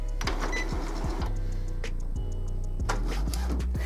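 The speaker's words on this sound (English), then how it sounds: "Now your printer will move the ink cartridge cradle where it needs to be." An Epson WorkForce WF-2510WF inkjet printer shifts its ink cartridge cradle into place, making a close series of mechanical clicks, clunks and short motor whirs at an uneven rhythm, with no voices.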